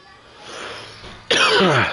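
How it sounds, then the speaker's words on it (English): A single harsh cough bursts out close by after a moment of quiet breathy noise. "excuse me for the cough"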